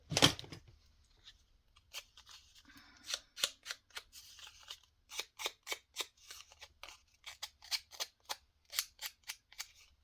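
Scissors snip paper scraps repeatedly, crisp close-up cuts coming in an uneven rhythm, quickening into a run of rapid snips toward the end.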